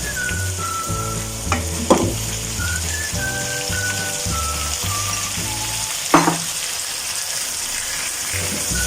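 Bhindi (okra) fries with a loud, steady sizzle in a pan as tomatoes go in, while a few sharp scrapes and clinks of a spoon cut through the crackle; music plays softly underneath.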